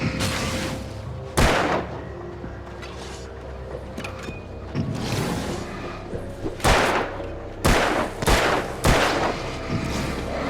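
Gunshots in the Alan Wake video game, several loud sharp bangs fired at irregular intervals, with some spaced apart and a closer cluster near the end over a low background.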